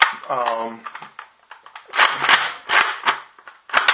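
A Roughcut toy blaster fires in slam fire mode, several sharp close clacks in quick succession after a short spoken phrase, with mechanical snaps between shots.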